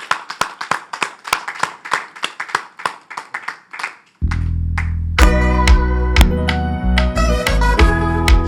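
People at a French Mother's Day celebration clap in a brisk, rhythmic beat for several seconds before lively swing dance music starts up loudly and takes over.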